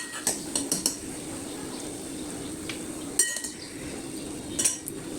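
Metal utensils clink against plates and a steel serving dish while bharit, a Marathi mashed spiny-brinjal dish, is served onto a plate: a few sharp clinks at the start, then scattered taps over a quiet kitchen background.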